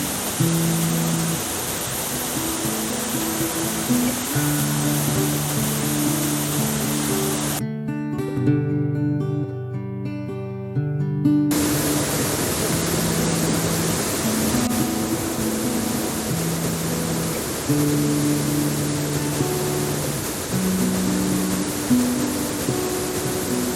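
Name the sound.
river water flowing at Sudun river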